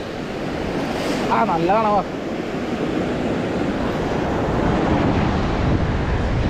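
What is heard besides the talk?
sea waves at Pondicherry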